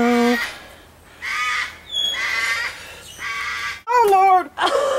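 Cockatoos at a bird garden in Naples give harsh, raspy squawks in several bursts, close and loud, with a person talking to the birds between calls.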